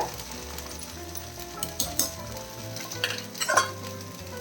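Kerala sambar with dal is stirred from the bottom of a pot over a medium flame: soft scraping and bubbling with a few sharper clinks of the spoon, and no talking.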